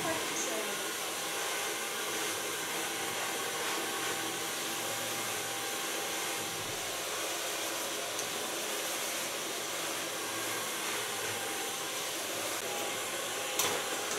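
A hair dryer blows steadily on short platinum blonde pixie-cut hair, a continuous close whooshing hiss that runs unbroken throughout with no talk over it.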